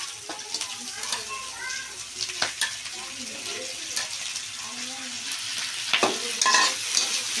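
Shrimp and onion stir-fry in a pan, with a steady sizzle broken by scraping stirs and clinks of the spatula, while a voice speaks briefly over it.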